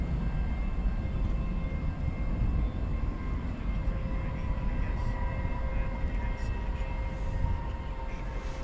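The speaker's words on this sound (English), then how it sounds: "Frontier coming in from Minneapolis, St. Paul. Flight 3223, Airbus A320neo." A Frontier Airbus A320neo lands at DFW after dark, its engines making a steady, loud roar with sustained whining tones throughout.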